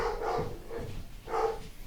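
Dogs bark several times in quick bursts at moderate distance, standing out clearly above low background noise.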